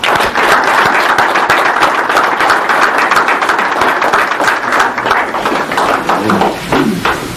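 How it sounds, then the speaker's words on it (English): A round of applause from the crowd at a high school basketball signing ceremony, steady dense clapping filling the whole stretch at close range with faint voices mixed in near the end. "Let's get a round of applause."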